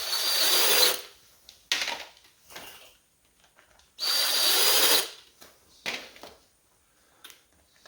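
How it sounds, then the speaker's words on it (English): Power drill bores holes into a soft rubber bicycle tire in bursts of whirring, roughly two long runs and several short ones, close up with quiet pauses between. "we'll start drilling the tire"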